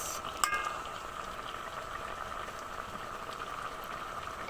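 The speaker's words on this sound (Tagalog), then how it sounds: "Yan, kumukulo na." Fish paksiw of galunggong simmering in a pot on a gas stove, a soft steady bubbling and light sizzle after a brief clink at the start.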